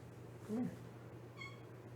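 A small one-eyed cat gives a single short, soft meow nearby against a quiet room hum, followed by a faint high chirp.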